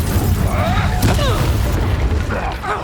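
An Incendio fire spell goes off in Hogwarts Legacy on PS5 Pro. There is a loud magical burst with crackling, sweeping flame tones, followed by further spell effects and a low rumble beneath.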